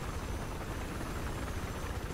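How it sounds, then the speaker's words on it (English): A helicopter flying steadily in the video game Battlefield 4, with a constant loud rotor and engine drone throughout and no talk. "just keeping the helicopter nice and steady"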